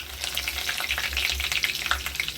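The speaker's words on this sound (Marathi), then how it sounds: "चांगलं आता हे चांगलं तडतडू द्यायचं." Mustard seeds, cumin and curry leaves crackle in hot oil, a dense close-up spatter of sharp pops and sizzle that keeps up without a break.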